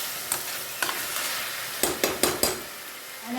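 Schezwan bread mixture with tomato ketchup being stirred in a frying pan, steady close sizzle broken by several sharp scraping strokes of the spoon, no voices.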